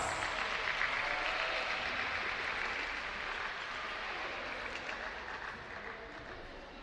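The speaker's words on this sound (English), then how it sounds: "Big round of applause." An audience applauds at a dance show, a dense, fairly even wash of clapping that holds for several seconds and fades slightly toward the end.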